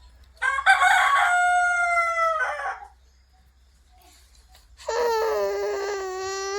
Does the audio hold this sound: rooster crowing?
yes